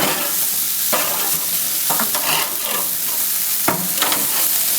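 Chicken wings frying in a pan and being stirred around, with a steady broadband sizzle and several scraping pushes of the utensil, close and fairly loud, no voices.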